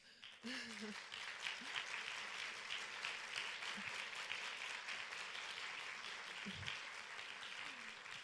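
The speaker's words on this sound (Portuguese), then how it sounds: "receber uma salva de palmas" An audience at a management week event gives a team a warm round of applause. The clapping is dense and steady for about eight seconds and sounds fairly distant, with occasional faint voices underneath.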